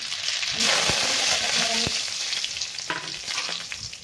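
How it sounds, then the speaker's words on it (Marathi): Cumin and mustard seeds frying in hot oil, a steady close sizzle with light crackles and a few sharp spatters and stirring taps. "आता टाकून घेणार आहे आपण अर्धा चमचे जिरे, अर्धा चमचा मोहरी टाकणार आहे."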